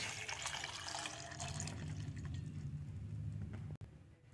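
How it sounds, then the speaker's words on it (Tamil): Water pours steadily into a pot of washed taro roots before boiling, a continuous splashing, gurgling stream close by that cuts off abruptly near the end, with no talk. "இப்ப இதில் தண்ணி ஆட் பண்ணி வேக வச்சிடலாம்"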